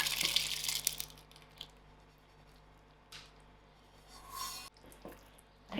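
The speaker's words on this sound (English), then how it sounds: "So I'm gonna pour the samp and beans into my veg curry." Cooked samp and beans poured into a pot of vegetable curry, giving a short wet squishing, sloshing burst at the start, then quieter scattered drips and a soft plop later.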